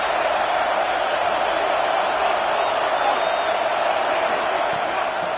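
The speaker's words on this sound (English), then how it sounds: "Decibels rising as the crowd gets behind this defense on third down." A football stadium crowd roars for the defense on third down, a dense, steady wall of cheering and whooping that holds at full volume throughout with no break.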